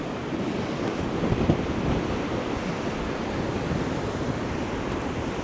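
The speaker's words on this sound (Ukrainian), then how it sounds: "М які хвилі." Stormy sea at Arcadia beach in Odesa, with foamy waves crashing continuously and strong wind buffeting the microphone, a dense steady roar with no voices.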